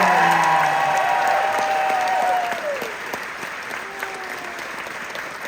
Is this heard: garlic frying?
no